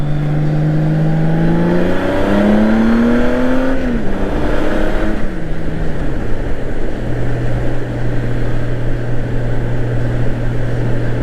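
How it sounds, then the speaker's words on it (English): Tires spin while a vehicle engine revs hard and climbs in pitch, then drops off and settles into a steady loud drone, heard from a passing motorcycle with no talk over it. "Somebody's spinning the tires."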